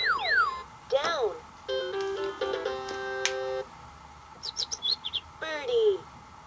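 VTech Turn and Learn Driver electronic toy bird chirps and tweets, a few short warbling bursts with synthetic tones in between, fairly close and clear.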